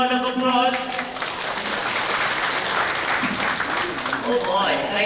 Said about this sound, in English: deserve another round of applause.